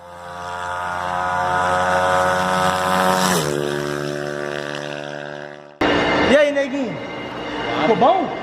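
A motorcycle engine runs with a steady droning tone that revs up, drops to idle, then a voice speaks over the running motor.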